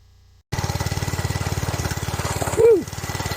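A small Monkey Bike engine idles without choke, a steady, rapid, loud putter heard up close that begins abruptly after a brief near-silence and carries on with only a slight surge partway through.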